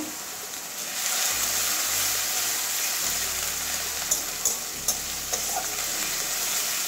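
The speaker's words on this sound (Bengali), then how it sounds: "এবারে সব ভেজে নেব পেঁয়াজটা কাঁচা গন্ধ যাওয়া পর্যন্ত" Onions and green chillies frying in a pan for a Bengali potato, pointed gourd and mushroom curry, a steady close sizzle with occasional scraping stirs and a few soft clinks.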